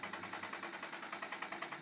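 A small Grizzly horizontal beam Stirling engine, fired by a methylated spirits burner, runs at a steady quick rhythm, each cycle a soft mechanical clack and whir repeating evenly, close and fairly quiet.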